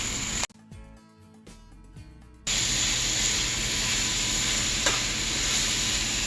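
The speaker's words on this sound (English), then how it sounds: "and then you saute them" Vegetables for ratatouille sautéing in a pan, a steady loud sizzle and hiss that cuts in after a brief quieter stretch with stirring clinks.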